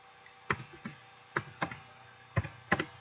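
Keys clack on a computer keyboard as measurements are typed in: about seven or eight crisp, close taps in small irregular clusters over a quiet room.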